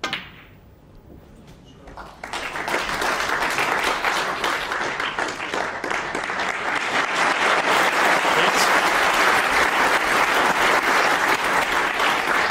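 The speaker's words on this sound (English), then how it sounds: "Big round of applause for that yellow." Crowd applause at the 2007 Crucible snooker championship follows a quiet moment after a shot on the yellow, swelling quickly into loud, sustained clapping from the arena audience that holds steady to the end.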